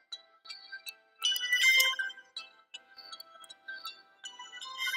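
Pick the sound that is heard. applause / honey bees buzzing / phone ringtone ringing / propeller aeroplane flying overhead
phone ringtone ringing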